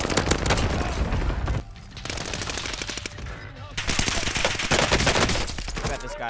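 Rapid automatic gunfire from a video game played with an anti-recoil mod fires in long, loud sustained bursts with short pauses between them, and a voice can be heard faintly in places.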